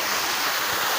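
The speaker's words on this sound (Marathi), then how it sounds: "धबधबा" Steady, close rushing roar of a waterfall tumbling over rocks at a quiet, scenic spot, a dense broadband wash with no pauses and no voices.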